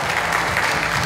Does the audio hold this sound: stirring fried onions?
no